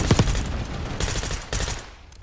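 Gunfire in a C9 setup video game, heard as rapid automatic bursts: a sharp volley at the start, then further clattering bursts at mid-range that fade out near the end.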